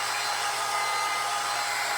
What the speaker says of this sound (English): Let me take my dryer real quick.